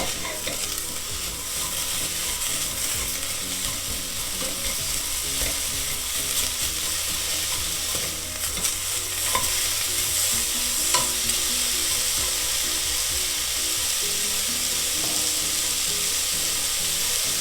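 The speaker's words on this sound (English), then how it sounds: "we'll just give these a bit of a stir, just to coat them in the fry light as well" Mushrooms frying in Frylight spray oil while being stirred in a pan, making a steady close sizzle with constant scraping and rattling from the spoon, no talking.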